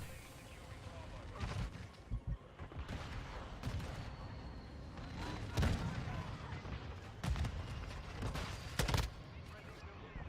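Repeated loud gunshot bursts in the Modern Warfare 2 video game, several sharp cracks spaced irregularly over a steady background of game noise, with a player talking in between.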